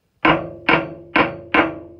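A hammer taps a stuck pin on a radiator's thermostatic valve, four sharp metallic knocks evenly spaced about half a second apart, each with a short ringing decay, close and clear with no talking.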